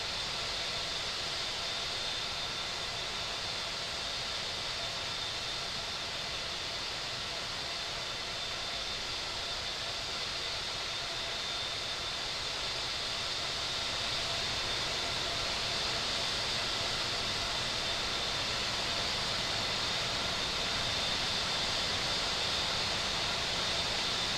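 Airliner engines roaring steadily on departure in the Infinite Flight simulator, a constant broadband jet rush with a faint high whine, building slightly louder toward the end, with no talking.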